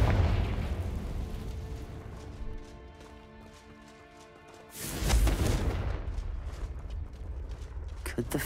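Confringo fire spell blasts in the video game Hogwarts Legacy, a loud burst around midway followed by booming, crackling explosions up close, over a musical game background.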